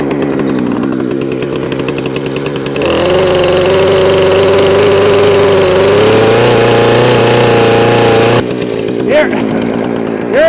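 A chainsaw bucking a fallen snag in the woods roars loudly and steadily for several seconds under load, dropping back to a rough idle before and after the cut.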